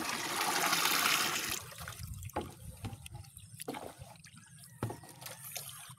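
Watermelon fertilizer solution is stirred in a container of water, starting with a burst of churning and splashing, then settling into intermittent swishes and sloshes of liquid, close and fairly quiet.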